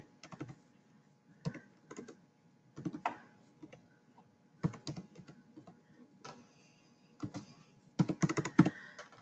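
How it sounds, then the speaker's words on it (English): Typing on a computer keyboard comes in short bursts of quick, close, faint key clicks separated by pauses, with no talking. "we'll just type in the library and then the barcode again"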